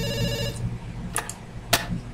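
A telephone rings inside a video game: a sustained electronic ring tone that cuts off, followed by short bright chirps, with no talking.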